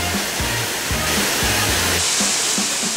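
Steady, loud roar of a waterfall on Sakhalin island, a dense, unbroken rush of falling water heard close by with a few low thumps underneath and no voices.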